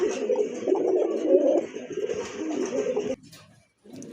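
Pigeons, a red-bar pair among birds kept for sale, cooing close by in low, throaty rolling phrases over about three seconds, then a short pause and a faint resumption.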